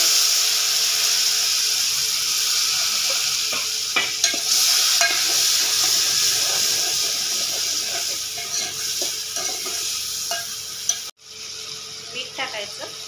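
Tomatoes and turmeric frying in a pan while being stirred, making a steady sizzle with scraping stir strokes throughout, close and moderately loud, with a brief cut near the end.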